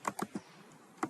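A few quick computer keyboard keystrokes while typing assembly code, three clustered clicks then a pause and one more, close and clear in a quiet room.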